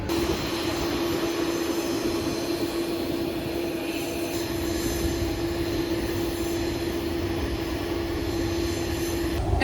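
A large airplane flying, a steady loud drone with a sustained hum and broadband roar running unbroken from start to finish.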